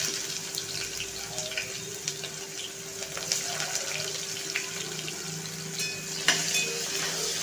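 Finely chopped onion frying with curry leaves in hot oil tempering for a sprouted moth bean curry, a steady close sizzle with faint stirring clicks throughout.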